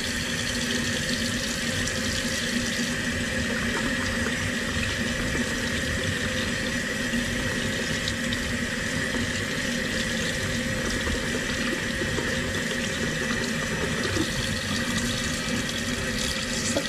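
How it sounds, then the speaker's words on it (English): Tap water running while hands are washed with soap at a sink, a steady close hiss of flowing water that continues evenly throughout without talk. "The water trickle down."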